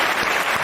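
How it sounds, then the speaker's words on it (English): A brief applause sound effect: a single short, dense burst of clapping that lasts under a second, fairly loud and with no voices over it. "he would probably hit that applause sound effect"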